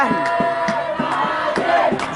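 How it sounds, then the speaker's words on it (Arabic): Shabab El Maadi football fans chanting in the stadium during a match against Al Ahly, rhythmic massed voices with regular beats, loud and continuous. "وسامعين حضراتكم هتافات"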